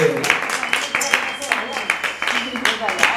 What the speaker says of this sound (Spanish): Un fuerte aplauso para esta gente.